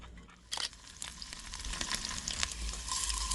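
Sauce with honey and chili flakes being stirred in a pan for steamed vegan dumplings, a soft sizzling hiss with a sudden scrape near the start and light scraping strokes throughout, close by and without voices.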